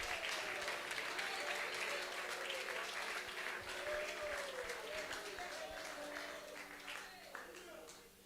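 A church congregation claps steadily for Jesus, a dense wash of many hands that slowly fades toward the end, with voices and sung or spoken tones running beneath it.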